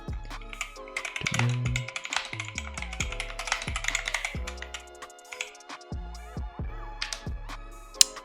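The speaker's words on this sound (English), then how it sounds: "this keyboard is a little bit louder" Rapid clacky keystrokes on a Dierya DK61e mechanical keyboard, close and fairly loud, with an irregular rhythm and a slight rattle, no voices.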